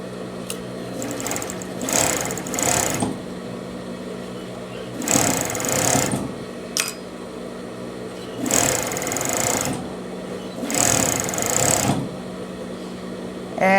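A coverstitch machine sews two-fold bias binding onto the neckline of a women's long-sleeve pajama top, running in four separate bursts of a few seconds each with quiet pauses between, loud and close.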